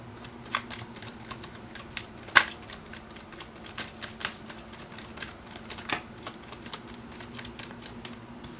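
Tarot cards are shuffled close by in a quick, papery riffling patter with occasional sharper flicks and taps as cards are handled and drawn, steady throughout with no talking.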